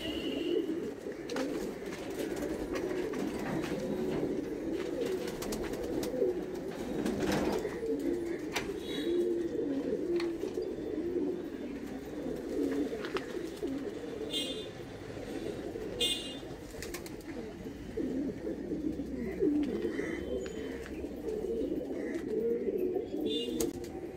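Many pigeons coo together inside a loft, a continuous soft layered murmur of low cooing with scattered brighter calls and faint distant traffic sounds.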